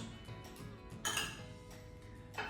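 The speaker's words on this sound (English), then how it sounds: "we're gonna add the meatballs in one by one" Browned meatballs are dropped one at a time into a pan of sauce, giving soft knocks and clinks against the pan over a low simmering background, with a sharper clatter near the middle and again at the end.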